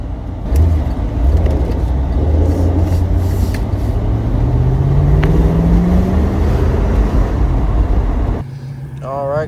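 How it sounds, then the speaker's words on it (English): A C4 Corvette accelerating on the road, its engine note rising steadily in pitch as it pulls, loud and close throughout, cutting off abruptly near the end. "Car seems to be able to actually accelerate."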